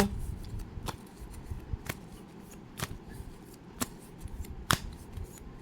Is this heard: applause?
no